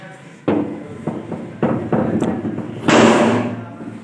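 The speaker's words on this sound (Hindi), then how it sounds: "ये मैं दरवाज़ा खोलने लगा।" A gate door is opened with a string of close knocks and thuds, followed by a louder, longer scraping clatter as it swings.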